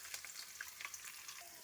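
Onions and peanuts frying together in hot oil, a steady crackling sizzle with scattered sharp pops throughout, fairly quiet and close, no talking.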